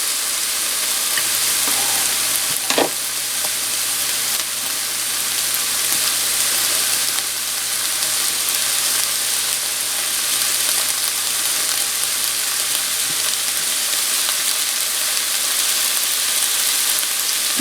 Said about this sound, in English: I'm going to go ahead and add in the peppers.